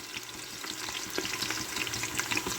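Thinly sliced onions for Schezwan biryani fry in a pan with a close, steady crackling sizzle and soft stirring.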